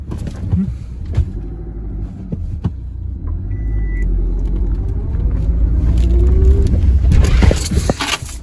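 A car pulls away with a deep, steady engine rumble that swells gradually as it gets moving, with a few faint knocks along the way and no voices.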